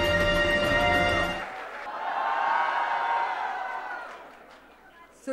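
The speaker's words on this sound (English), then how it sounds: "Let's give a big round of applause to our Badshah of Bollywood" An audience cheers and applauds for Shah Rukh Khan at a leadership event, swelling after a loud opening passage and then fading out.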